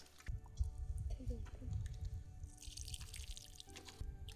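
Raw mutton being washed in water for a village wood-fire cooking session, with wet dripping, pouring and squishing sounds up close while someone talks over it throughout.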